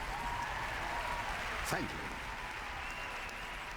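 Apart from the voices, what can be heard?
audience applauding after a speech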